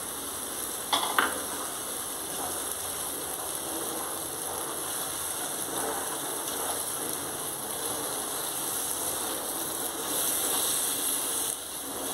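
Yogurt goes into a sizzling okra gravy in a pan, giving a continuous close hiss with a couple of sharp clicks near the start and a brief swell toward the end.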